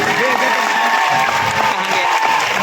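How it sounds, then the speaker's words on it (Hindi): An audience at a religious jagran night gathering applauds continuously, a broad wash of clapping and crowd noise with amplified sound audible underneath. "अरे माँ के लिए लाइन सुनाइए तो जबरदस्त ताली होनी चाहिए"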